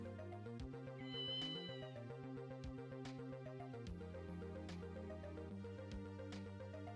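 A black kitten meowing in the video game Ghost Trick: Phantom Detective, a short synthesized meow over a steady looping game music track with repeating chords.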